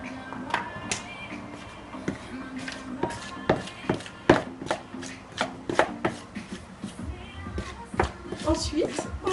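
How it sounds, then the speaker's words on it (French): Dry ingredients for a leek pie dough are stirred and scraped in a bowl, giving a steady run of close, irregular taps and knocks with soft shuffling between them, busy and fairly loud throughout. "On mélange les ingrédients solides"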